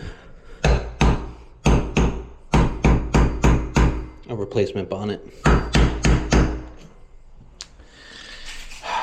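A series of sharp metallic hammer strikes in quick bursts, close and loud, with someone speaking briefly in between.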